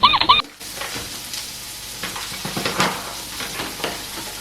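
A spoon scrapes and stirs mushroom filling in a hot pan, with steady sizzling and irregular scraping clicks.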